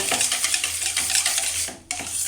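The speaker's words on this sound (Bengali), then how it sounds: "দইটাকে খুব ভালো করে ফেটিয়ে নেব" Strained yogurt is whisked briskly in a bowl, with rapid rhythmic scraping and tapping strokes close by and a brief pause near the end before the whisking picks up again.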